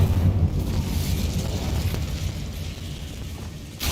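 A fire spell cast in Hogwarts Legacy during a rune-symbol puzzle fight: a sustained roaring, rumbling burst of flame that stays loud throughout, closing with a brief flare at the end.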